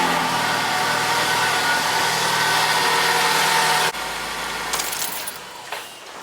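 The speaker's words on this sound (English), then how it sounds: "the engine started up absolutely fine and the engine seems to be running nice and smooth" A serviced Ford Focus engine runs with a steady mechanical hum after new spark plugs and coil packs are fitted. Midway the sound drops abruptly to a quieter, smoother idle, and a few light clinks follow near the end.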